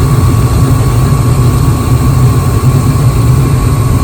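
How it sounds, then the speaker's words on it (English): A gas furnace running with its gas valve open and the burner flames lit, a loud, steady, close roar with a constant hum and no pauses or voices. "The valve is now open, so we've got gas and we've got heat."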